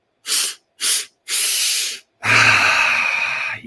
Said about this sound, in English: Breathing as powerfully as you can now.